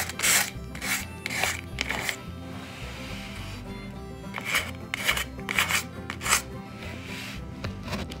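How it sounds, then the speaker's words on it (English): Sandpaper rubs by hand over small patched spots on thrifted furniture, coming as bursts of rasping strokes, a cluster early on and another later, moderately close with quieter gaps between. "I'm just gonna take a piece of sandpaper though and just kinda go over just a little spots here."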